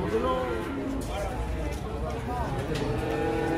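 A sacrificial cow with an injured leg after unloading from a truck moos in drawn-out, wavering calls at a livestock sale, partly masked by people talking nearby.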